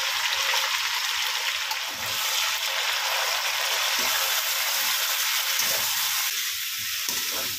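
A steady, close sizzle of ginger, green chilli and ground spice paste frying in a pan on a low gas flame, with faint stirring scrapes under the continuous hiss.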